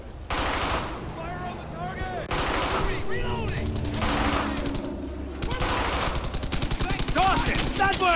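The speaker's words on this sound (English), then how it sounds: "Jasper! Fire on that MG!" Sustained machine gun bursts and rifle fire from the World War II shooter Brothers In Arms: Hell's Highway fill the scene, loud and continuous, with shouted voices mixed into the battle.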